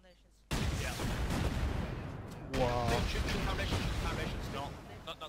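Rapid rocket barrage pounds base foundations during a raid in a survival video game, a dense continuous roar of blasts and explosions lasting several seconds, with voices talking over it.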